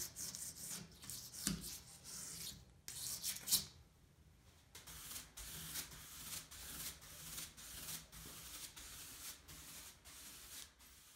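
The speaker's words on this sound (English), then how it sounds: "Scrape off any excess soap scum from the tile surfaces with a safety razor." A safety razor scraping soap scum off tiled shower walls gives a steady run of close, repeated rubbing and scraping strokes with a few sharper clicks along the way.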